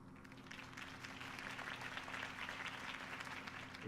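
Crowd applause for Harvey Dent's campaign speech in Batman: The Telltale Series, a steady, moderately distant wash of many hands clapping that holds throughout without fading.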